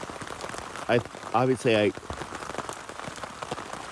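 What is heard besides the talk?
rain falling on a camping tarp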